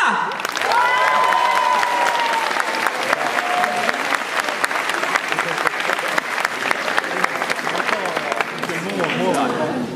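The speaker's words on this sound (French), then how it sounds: "Je vous demande un tonnerre d'applaudissements pour Nikita" At a retro gaming convention's cosplay contest, a large audience applauds and cheers loudly for a contestant, a sustained roar of clapping with whoops and voices throughout.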